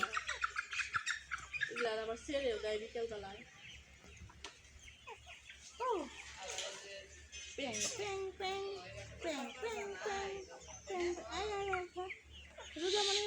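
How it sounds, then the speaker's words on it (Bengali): Farm chickens clucking and squawking nearby in a rapid irregular series of calls, with occasional chirps and a voice talking among them. "এগুলা কি ফার্মের মুরগি"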